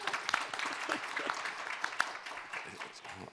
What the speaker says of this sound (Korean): 우리 윤희정 아나운서님께도 박수 한번 좀 부탁드리겠습니다.